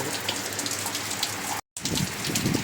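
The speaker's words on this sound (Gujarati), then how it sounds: "વરસાદ ધૂમ મચાવી રહ્યો છે" Heavy monsoon rain pours down in a dense, steady roar on surfaces, loud and close, with a brief cut in the sound partway through.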